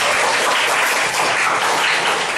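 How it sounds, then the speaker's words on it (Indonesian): Classroom applause for a student at a vocational high school in Samarinda, a dense, loud burst of clapping from many hands, steady and close, with no talking. "Beri aplaus untuk Irfan."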